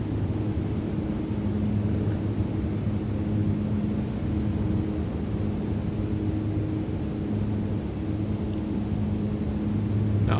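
A Metroliner turboprop plane's engines drone in a flight simulator game, a steady, loud, even hum with a low tonal whine that holds throughout with no break and no talking.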